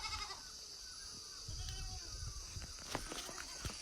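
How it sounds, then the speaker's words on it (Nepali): Goats bleating at home, a few short cries rising over faint shuffling and footsteps, near but not loud, with a voice speaking softly in the background. "अब चाहिँ बाख्राहरू थुन्नु छ"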